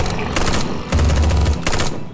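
Rapid gunfire volley in the mobile zombie survival game State of Survival, loud and dense, with continuous bursts that swell, ease slightly, then surge again over about two seconds, no voices.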